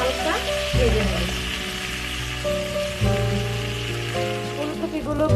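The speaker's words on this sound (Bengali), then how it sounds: "ফুলকপিগুলো তেলের মধ্যে হালকা ভেজে নেব।" Cauliflower pieces seasoned with salt and turmeric fry lightly in oil, giving a steady soft sizzle that sits beneath louder background music.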